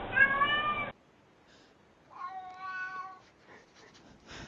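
Cats meow in a few separate calls, one drawn-out tonal meow in the middle and shorter ones around it, close and fairly quiet, with a brief burst of other sound at the start.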